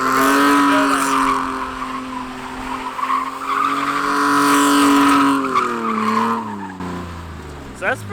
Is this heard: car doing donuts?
yes